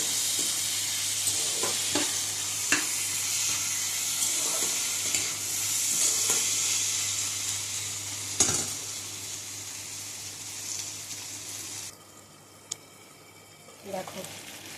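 Taro stolons (kochur loti) frying in a pan with no water, a continuous close hiss and sizzle with occasional stirring clicks, dropping quieter near the end as the pan settles.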